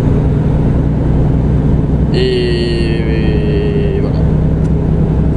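Steady low diesel drone of a truck driving along a road in France, continuous and fairly loud throughout, with a brief tonal whine overhead and a short spoken phrase over the engine.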